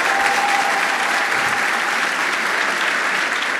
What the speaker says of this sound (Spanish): me voy a dar el gusto de que les den un aplauso